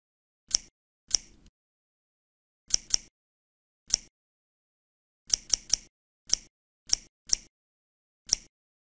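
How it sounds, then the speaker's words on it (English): Sharp scissor snips, about a dozen crisp clicks in short bursts and pairs with pauses between, close up and clear against silence. "Scissors."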